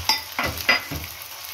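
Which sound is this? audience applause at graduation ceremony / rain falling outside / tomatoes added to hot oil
tomatoes added to hot oil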